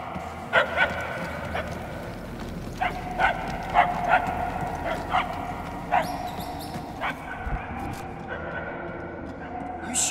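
In the Guardians of the Galaxy game, a dog barks repeatedly in short yips spread through the scene, mid-distance, over a steady ambient game background with occasional other effects.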